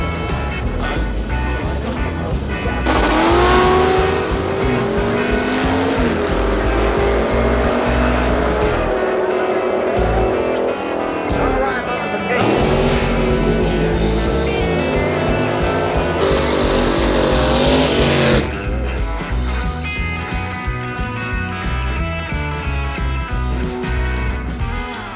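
A Monza drag race car at a dragway launches at full throttle with a loud sustained engine roar that swells and fades, continuous and close throughout.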